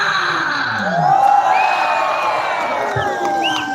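A crowd at a night concert with Tangkhul artists cheers and claps for a performer. Whoops and whistles rise above a steady wash of audience noise.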